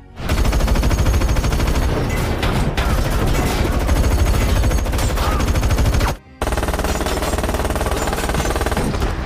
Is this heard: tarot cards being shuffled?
no